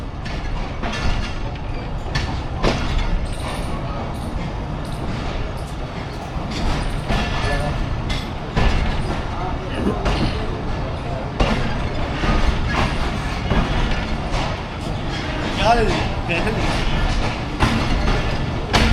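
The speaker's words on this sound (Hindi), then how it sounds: "डिपार्चर हो रहा है जी मियाँ वाली प्लेटफॉर्म नंबर 1 से 130 डाउन थल एक्सप्रेस का।" The 130 Down Thal Express departs platform 1 at Mianwali railway station, wheels clattering rhythmically over rail joints with rumbling mechanical noise, close and loud, while someone talks over it.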